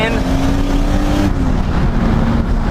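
Turbocharged Toyota Supra making over 500 horsepower, its engine roaring loud and close under hard acceleration with a steady rising drone, mixed with talk.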